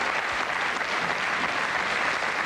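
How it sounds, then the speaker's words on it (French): Audience applause for the Rumbanana Girls during a French TV variety show premiere, a steady dense wash of clapping filling the whole moment at a fairly quiet level. "On peut les applaudir, allez."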